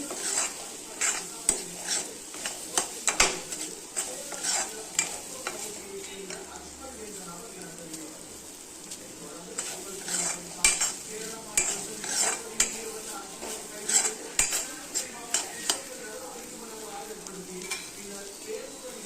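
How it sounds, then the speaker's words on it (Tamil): A spatula stirs and scrapes repeatedly in a pan while egg sizzles steadily underneath, with frequent clinks of metal against the pan. "இந்த மாதிரி நல்லா கிண்டிக்கலாங்க"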